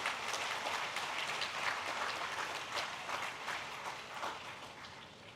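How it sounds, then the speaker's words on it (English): Applause from the audience at a conference inaugural ceremony: sustained, dense clapping across the whole stretch, moderately distant and easing off slightly toward the end. "Give a big applause to all of you"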